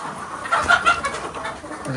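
Desi chickens cluck and squawk at feeding time on a farm, several birds calling close together over a busy, jostling background. A voice sounds faintly under them.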